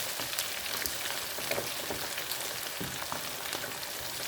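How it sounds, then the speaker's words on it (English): Chicken pieces frying in oil in a pan over medium heat, a steady close sizzle with faint crackles running throughout and no voices. "got that chicken frying"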